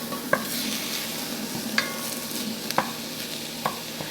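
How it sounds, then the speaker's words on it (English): Ground beef and onions brown in a pot for chili, a steady broadband sizzle with a few sharp spoon-scrape clicks from stirring, close and even throughout. "we're going to cook these together until the meat is browned and the onions are soft"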